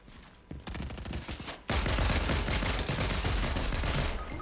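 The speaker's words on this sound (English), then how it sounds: "I was shooting him in the face with an SMG and he got me with the pistol" SMG and pistol gunfire in Fortnite, fast rattling bursts of shots, quieter at first and then a sudden louder sustained volley of rapid fire.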